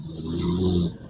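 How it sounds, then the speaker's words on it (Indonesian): A person snores once, a short, rough, close snore lasting about a second with nothing else around it. "Ngorok juga dia."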